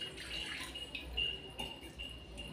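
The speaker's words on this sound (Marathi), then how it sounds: "थंड पाणी घालायचं आहे," Cold water running onto freshly boiled pasta in a kitchen, a steady rushing pour with a faint high ringing tone, moderately close and with no one speaking.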